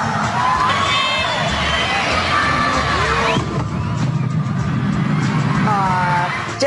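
Fans at a concert in the UK scream and cheer loudly and continuously, a dense crowd roar with shrill high-pitched shrieks rising above it.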